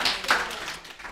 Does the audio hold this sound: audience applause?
yes